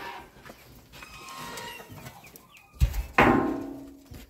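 Chickens and Cochin chicks in a backyard coop cluck and chirp, quiet scattered calls at first, then a couple of louder, sharp bursts near the end, with no talking.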